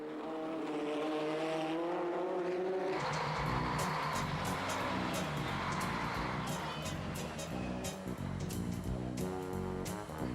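Race car engine on a track, starting with a low rising tone that switches to a loud sustained roaring whine with shifting pitch and rapid sputters, close and continuous throughout.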